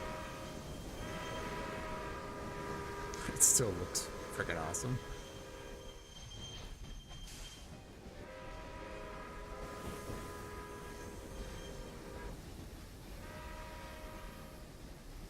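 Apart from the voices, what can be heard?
trains running in video game Railway Empire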